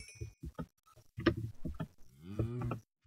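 Minecraft cows moo several times in short bursts, close and clear, with a longer drawn-out moo near the end and no talk over it.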